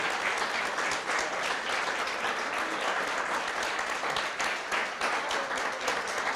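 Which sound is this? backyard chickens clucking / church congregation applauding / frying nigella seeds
church congregation applauding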